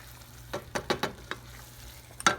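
White wine cooking off in a pan of chorizo and pea risotto gives soft sizzling broken by several sharp stirring scrapes and clicks in irregular bursts, close and fairly loud, with no talking.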